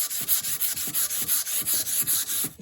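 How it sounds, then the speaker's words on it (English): Sandpaper rasps back and forth over a large vintage crosscut saw's metal plate, wet with WD-40, in quick, steady rhythmic strokes, close and fairly loud. "And just start sanding."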